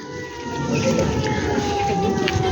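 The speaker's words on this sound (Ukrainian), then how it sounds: "У нас повітряна тривога" An air raid siren sounds over a flea market in Kharkiv as a steady, loud, sustained tone with faint background bustle throughout.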